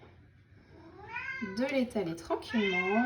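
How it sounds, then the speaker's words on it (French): A pet cat meows repeatedly from behind in a home kitchen, a series of drawn-out rising and falling cries, fairly close, following a brief spoken line. "C'est mon chat qui miaule derrière."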